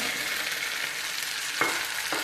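Green chillies hitting a hot pan for kundru sabzi, with a steady frying hiss throughout and two short sharp crackles near the end, heard alone with no talk.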